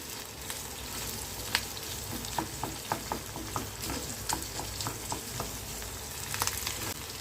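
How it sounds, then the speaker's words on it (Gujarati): Onions cut into large pieces frying in a pan for matar paneer, a steady close sizzle with periodic scraping stirs and light clicks of a spoon against the pan. "હવે અહીંયા આપણે આ ડુંગળીને થોડી બ્રાઉન થાય ત્યાં સુધી થવા દઈશું"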